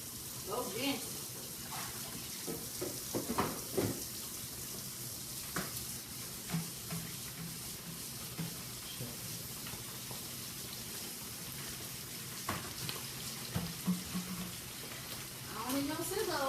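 Food frying in a pan gives a faint, continuous sizzle with scattered clatters and stirring, while voices talk over it throughout.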